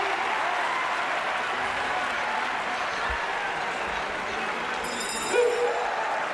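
Audience applause at a Uyghur stage show, steady and moderately loud throughout, with a brief clink near the end and faint crowd murmur underneath.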